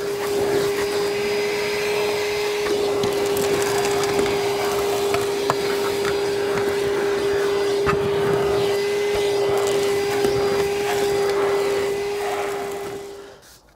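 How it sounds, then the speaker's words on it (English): Battery-powered Karcher handheld vacuum hoovering the interior of a Range Rover, a steady close whine with a constant tone running unbroken for the whole stretch and no talk over it. "I've just been going around doing a little bit more hoovering with the battery powered Karcher device."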